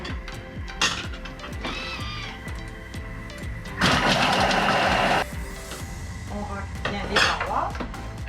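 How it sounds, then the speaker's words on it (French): A food processor mixes rosemary, garlic and onion pieces, a loud whirring burst of about a second and a half amid clattering bowl and utensil knocks nearby. "On mixe tout ça 5 secondes"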